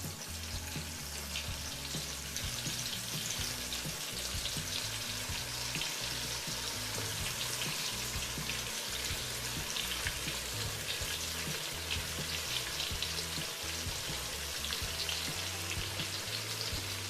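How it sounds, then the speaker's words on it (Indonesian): Marinated beef fries in a pan over low heat, giving a steady, dense sizzle and crackle like light rain, continuous and close without speech. "Kita masukkan daging yang udah kita bumbuin, yang sudah kita marine"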